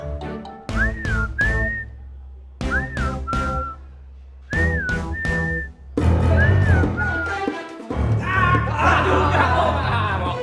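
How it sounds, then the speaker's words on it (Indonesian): Three short whistled phrases rise and fall, separated by pauses, then whistling continues over a burst of lively music or chatter toward the end. "aku bersiul aja"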